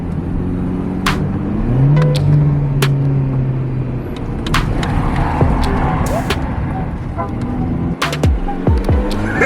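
A Mini fitted with coilovers drives along, its engine rumbling close and steady with a rising rev, tire and road noise, and sharp interior knocks and clicks.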